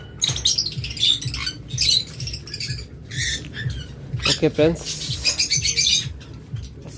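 Harsh, repeated lovebird squawks and chirps in bursts, fairly close and loud, with a brief spoken phrase partway through.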